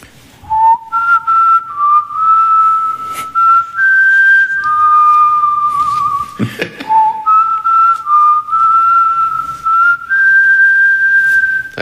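A person whistles a theme as a slow, clear melody of sustained notes, carried by a noticeable echo, loud and close.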